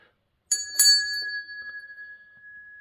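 A small decorative bell from a nautical-themed display set rings once with a sharp metallic strike, then a second quick tap, leaving a clear sustained tone that slowly fades out alone.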